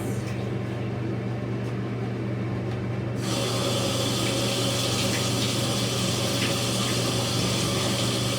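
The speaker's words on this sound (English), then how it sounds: "Give it a rinse." Running water pours steadily over a dyed faux fur vest being rinsed at a sink, a continuous hiss of tap flow that grows louder and brighter partway through, with no talking.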